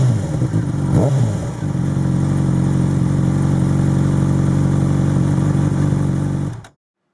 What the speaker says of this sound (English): Start the bike and let it idle for at least 2 to 3 minutes